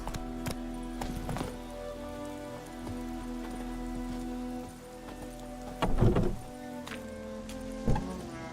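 Roach, a horse in The Witcher 3, clip-clops along with steady hoofbeats over a background of falling rain, with a few louder thuds and clatter standing out near the end.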